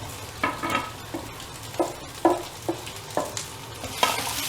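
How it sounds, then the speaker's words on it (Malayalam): Okra (lady's finger) sizzles and fries in hot oil, with a soft steady crackle punctuated by regular scraping stirs of a spoon in the pan. "എണ്ണ ചൂടായി നമുക്ക് വെണ്ടയ്ക്ക ഇതിലേക്കിടാം."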